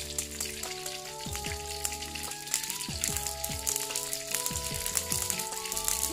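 Food frying in hot oil in a home kitchen gives a steady crackling sizzle throughout, with instrumental music playing underneath.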